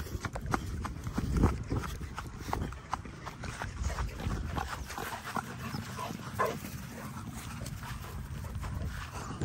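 A dog in a field moves about with quick, scattered pattering footfalls and light rustling, close by and moderately loud, with no clear talking.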